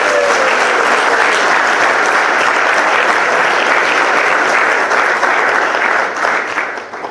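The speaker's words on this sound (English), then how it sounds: "I think they deserve a round of applause." Loud, sustained applause from a large audience at the 2023 FBD Young Farmer of the Year Awards ceremony, a dense steady roar of clapping that holds for several seconds before thinning out at the end.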